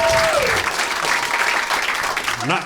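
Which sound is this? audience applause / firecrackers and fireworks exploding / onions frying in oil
audience applause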